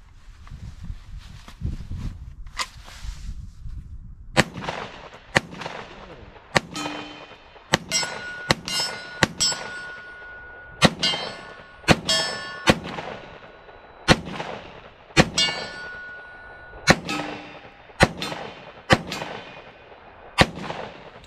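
A gun being test-fired: about twenty loud, sharp reports at an uneven pace, some with a metallic ring afterward, close and with no talking.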